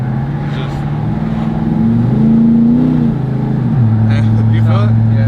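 A Chevrolet Silverado pickup's engine hums steadily and rises in pitch as it accelerates, a smooth, quiet drone heard from inside the cab, with a person talking over it.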